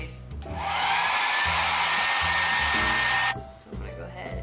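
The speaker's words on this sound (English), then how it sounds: "Now I'm gonna blow dry my face." Hair dryer blowing on face makeup for a Klingon forehead prosthetic, a loud close roar that switches on, holds steady for a few seconds, then cuts off, with no talk.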